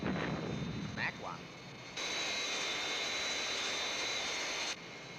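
An aircraft jet engine roars during takeoff in the Thunderbirds series, a dense, steady rushing blast that surges in after brief voice chatter and holds loud before easing slightly at the end.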